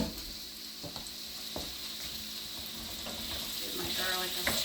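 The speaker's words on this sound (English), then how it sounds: "Give my garlic a stir through there." Garlic and zucchini sizzle and fry steadily in a pan over medium heat, with occasional stirring scrapes breaking through the continuous crackle.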